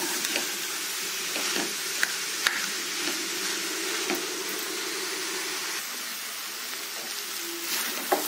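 Onion pieces and bitter gourd sizzle steadily in a pan for kakarakai karam, a continuous frying hiss with occasional soft clicks of stirring, close and even, with no voices.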